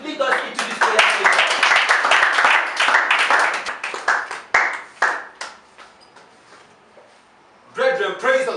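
Church congregation clapping in welcome during a worship service, a dense patter of many hands at moderate distance that thins into scattered claps before a voice starts speaking at the end.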